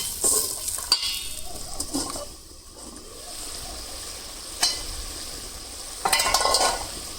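Onion and tomato masala simmering in a covered kadai gives a steady soft sizzle and bubbling, broken by a few spoon stirs and clinks against the metal, with no talk.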